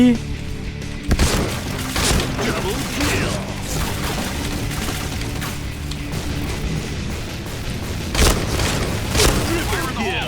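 Shotgun blasts from the video game Point Blank, a few sharp booming shots spaced irregularly over a steady game background, with someone talking over them.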